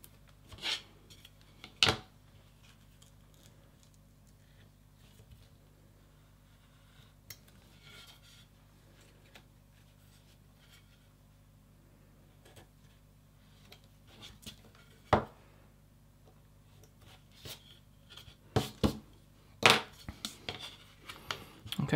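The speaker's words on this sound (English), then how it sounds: "Okay, so I can trim the excess off the end." Leather trimmed at the end of a piece: sparse, close snips and scrapes of a blade, with a few sharper cuts clustered near the end amid quiet stretches.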